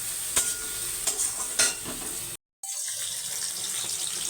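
Onions with salt frying in a pan, a steady close sizzle broken by a few sharp scraping stir strokes early on and a brief silent gap partway through.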